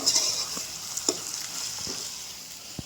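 Kathiyawadi okra curry is stirred in a sizzling pan: a continuous close frying hiss punctuated by several sharp spoon scrapes and knocks against the metal, with no talking.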